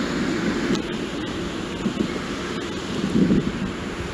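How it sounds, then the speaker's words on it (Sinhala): Sea waves at Ambalangoda beach, with fishermen's boats on the shore, giving a steady roar of surf and wind buffeting, swelling slightly near the end. "මුහුදු වෙරළේ හඬ ඔබට දැන් ඇසෙනවා ඇති."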